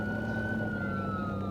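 Police car siren in a video game, a steady continuous wail holding at moderate level against a dense background of game sound, with no talk over it.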